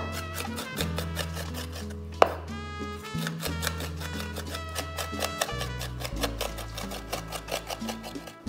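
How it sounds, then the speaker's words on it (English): A knife mincing two habanero peppers on a board, rapid steady chopping taps heard beneath loud background music. "I'm gonna go ahead and mince 2 habanero peppers."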